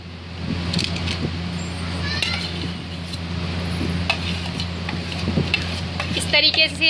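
Cream being stirred in a wok to make butter, giving soft scraping and clinking of a utensil against the metal pan, with occasional sharper taps, while a person talks over it.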